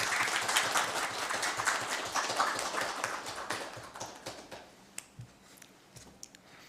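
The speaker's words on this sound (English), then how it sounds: "A huge round of applause for her." An audience applauds a best paper award at a closing ceremony, dense clapping that thins out into a few scattered individual claps before fading.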